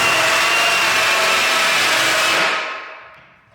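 A loud, steady grinding whir of a hole saw cutting through a wooden door, holding constant before winding down and fading at the end.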